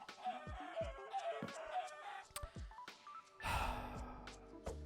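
Chickens in the Minecraft video game, a series of short clucks and squawks coming at irregular intervals, faint and close, with no talking.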